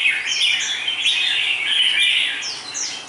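A wild-caught red-whiskered bulbul, about 14 to 15 months old, sings nearby in a steady, continuous run of bright chirps and warbling notes, with no talking.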